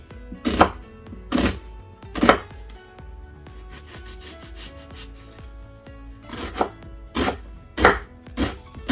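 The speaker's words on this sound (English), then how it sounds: "Next we've got 2 medium to large onions, and we're going to slice them up finely." Medium to large onions are sliced finely with a knife on a board, giving crisp, close cutting strokes in irregular bursts with quiet pauses between, ahead of cooking a chicken korma.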